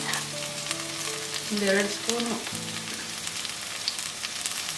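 Ginger garlic paste sizzling and frying with browned onions in a pan for a South Indian gravy, a steady close crackle with faint stirring and a few tonal kitchen sounds, no talk.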